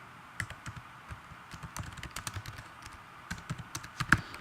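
Rapid keystrokes rattle across a computer keyboard at a quiet level, an irregular run of light clicks with a few sharper taps near the end, no voices over it.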